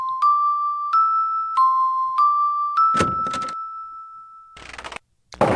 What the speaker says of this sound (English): Those lovely chimes, though.